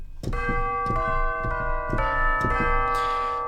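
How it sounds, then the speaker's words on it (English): Tubular bells from a sample library ring out in a sequence of about six struck notes with clanging metallic attacks and long sustained overtones that build into a bright, layered shimmer. "Tubular bells."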